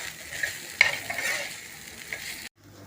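Okra with salt, asafoetida, turmeric and masala stir-fried in a pan for a Konkani-style dish, giving a soft, quiet sizzle with a sharper scrape of the spatula partway through before cutting off near the end.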